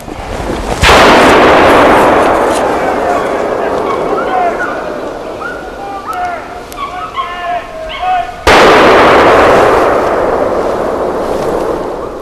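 Gunshots ring out during a wild boar hunt: two sharp, loud blasts several seconds apart, each with a long rolling decay, while faint chirping and voices fill the gap between them.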